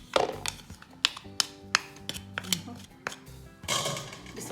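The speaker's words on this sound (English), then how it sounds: "I'm going to crush it. I believe I need a next spoon to do this." A spoon crushes boiled Jamaican white yam for a yam salad, giving a series of soft, irregular taps and knocks against a bowl, close up, with a louder scraping stir at the end.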